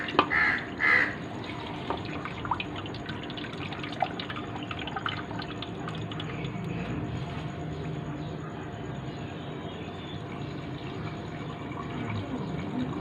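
Excess water drains from washed rice for Charsadda mota chawal, a thin trickle and drip close by with a couple of brief clinks early on, soft and steady throughout.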